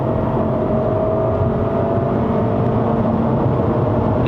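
A Lexus IS 300 F-Sport heard from inside the cabin on a test drive gives a steady, loud engine and road drone that holds fairly even throughout, with no clear gear change standing out.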